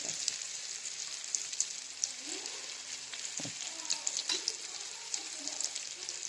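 Chutney ingredients for an amla, coconut, garlic and onion chutney roast in a pan with a soft, steady sizzle and faint crackles, with occasional scraping stirs and no talk.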